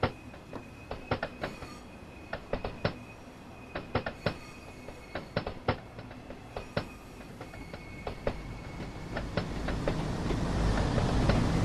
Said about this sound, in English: here comes our first train that we're going to be passing